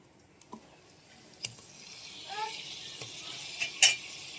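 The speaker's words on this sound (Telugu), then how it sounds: "మొత్తం తిప్పేసుకుందాం." A spoon stirs potato chicken curry with ginger-garlic paste in a pan, giving scattered scrapes and metal clinks, a soft sizzle, and a louder clatter near the end, all fairly close.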